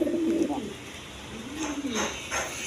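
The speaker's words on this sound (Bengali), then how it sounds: "প্রচুর পরিমাণ কবুতর ডাকে।" Pigeons at a farm loft, including a Rajgolla pair, coo in low, throaty, repeated calls. Someone talks over them in the foreground while more birds murmur steadily behind.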